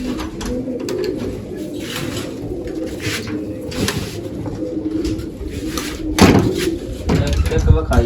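Pigeons coo in low rumbling phrases close at hand amid loud surrounding noise, with a sharp knock or slam near the end and someone talking over much of it.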